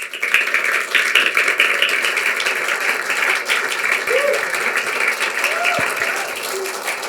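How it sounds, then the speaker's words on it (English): Sustained applause from a room audience at a live impact event, dense and steady for about seven seconds, with a few voices cheering over the clapping near the end. "One more round of applause."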